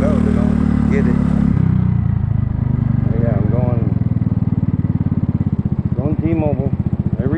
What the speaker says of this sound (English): so you'll hear that she's idling low